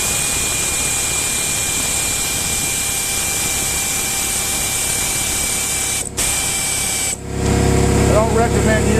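Workshop air compressor running loud and steady with a constant hiss and tonal whine during scooter engine work, briefly interrupted before a heavier low rumble takes over near the end.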